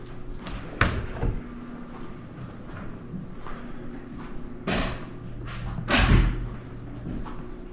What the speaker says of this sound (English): I just have to shut all the doors.